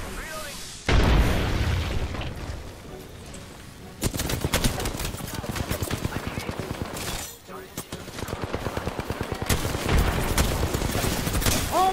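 Dense gunfire and booming impacts in the Apex Legends video game play as a loud, continuous barrage with bursts of rapid shots and a brief lull midway, while a player talks over the action.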